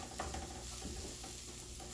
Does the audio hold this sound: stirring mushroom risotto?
yes